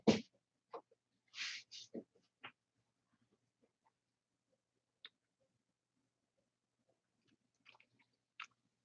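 A cracker being chewed and crunched close to the microphone. A cluster of crisp bites comes first, then quiet with a few faint, scattered crunches.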